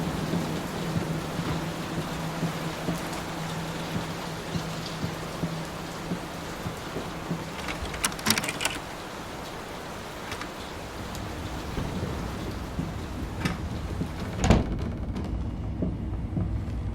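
Steady heavy rain pours throughout a scene in the horror game Layers of Fear, with a sharp crack of thunder midway and another later rumble, all without speech.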